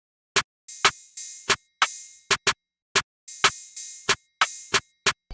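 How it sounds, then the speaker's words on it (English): Open hi-hat pattern made in FL Studio for a jerk trap beat, bright sizzling hats ringing out and decaying between sharp rim hits, varied loudness, steady syncopated loop with no talking. "Next up, I added this open hat."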